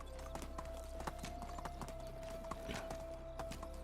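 Horse hooves clip-clop in a steady, even rhythm in the medieval life game Medieval Dynasty, each strike crisp and close over a continuous low hum and faint background tone.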